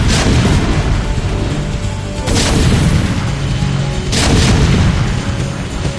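Siege tank artillery in the StarCraft video game fires three heavy, booming blasts a couple of seconds apart over dense, loud battle noise.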